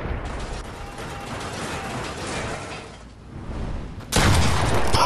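Quad launcher rockets firing in Fortnite Creative mode, a dense continuous rumble of blasts and mechanical clatter that swells sharply louder near the end, with no voices.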